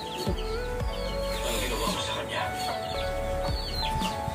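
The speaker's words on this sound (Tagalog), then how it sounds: "Marami ka ng manok ngayon dito" Chickens cluck and chirp intermittently in a busy yard, with people talking over them throughout.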